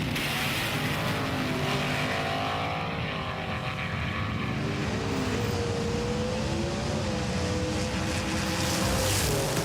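Race cars, a Mitsubishi Evo and a Jaguar, run a loud sustained engine roar with rising and shifting pitch, heard from a distance over constant crowd-like background noise.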